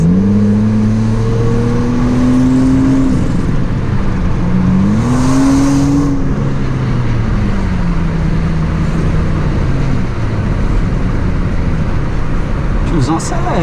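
A BMW 650i V8 accelerates hard, its deep roar climbing and swelling loudly before settling into a sustained rumble, close and dominant against background noise.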